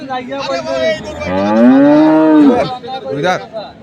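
A dairy cow at a cattle market lets out one loud, long, close moo that rises and falls, followed by a short grunt.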